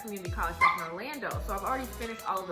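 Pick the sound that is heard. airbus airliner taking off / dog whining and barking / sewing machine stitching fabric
dog whining and barking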